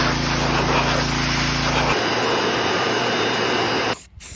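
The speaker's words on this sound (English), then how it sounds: "it's time to pressure wash it yet again" A loud, steady pressure-washer hiss and drone with a low tonal hum that cuts out partway, leaving broadband spray noise on a go-kart's metal frame, then briefly drops near the end.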